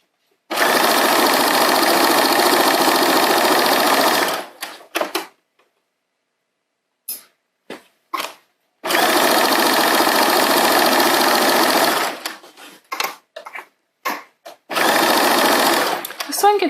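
A sewing machine runs in three long bursts of steady stitching along the U-shaped crotch curve of pajama pants, broken by short stops, clicks and handling sounds between runs.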